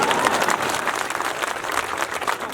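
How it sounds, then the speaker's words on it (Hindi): Audience at a Hindi comic poetry gathering in Shivrinarayan clap with raised hands, giving dense, steady applause from many people close by. "जो हाथ ऊंचे करके तालियां बजा रहे हैं"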